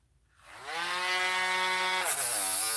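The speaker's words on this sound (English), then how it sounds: "I can take my little Dremel micro and go over it. And this is an 80 grit sandpaper" A Dremel Micro rotary tool spins up from silence to a steady high whine, then bites into a rock with 80 grit sandpaper, adding a harsh grinding hiss as the pitch dips under load.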